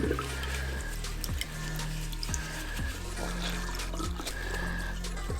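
Water is squeezed out of wet hiking boots during rinsing, giving a continuous close trickle and dribble of water that runs and splashes steadily throughout.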